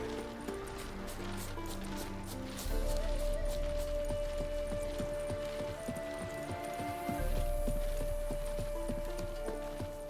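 Geralt's horse Roach galloping in The Witcher 3: steady rhythmic hoofbeats clip-clopping close up, with a low rumble and swelling background music beneath.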